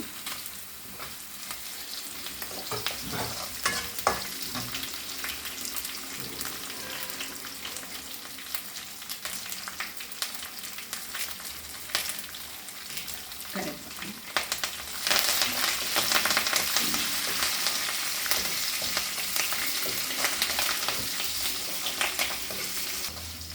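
Continuous loud crackling sizzle of tempering spices with dried and green chillies and asafoetida frying in hot oil, growing more intense about two-thirds through, with occasional stirring and no speech.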